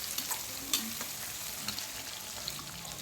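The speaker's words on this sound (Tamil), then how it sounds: "பொடியாக நறுக்கின வெங்காயம் வதக்கி விட்டுலாம்." Finely chopped onions sautéing in a pan for a peanut rice dish, a steady close sizzle with occasional stirring scrapes and clicks throughout.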